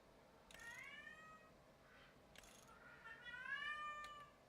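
A cat meows several times in a farming video game, distinct drawn-out cries spaced a second or two apart, fairly faint and alone with no talk.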